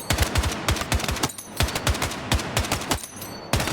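Rapid bursts of TR-7 rifle tap fire in a first-person shooter fitted with a flash hider, basic barrel and vertical grip, sharp close shots in short clustered volleys with brief gaps.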